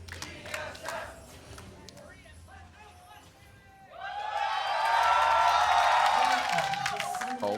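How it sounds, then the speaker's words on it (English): A hometown esports crowd cheers and roars at the LCS 2019 Regional Qualifier Finals, a League of Legends Game 3 match between TSM and Clutch Gaming. Talk and quieter crowd noise give way halfway through to a loud, sustained swell of cheering. "Hometown crowds for both here trying to cheer each other on"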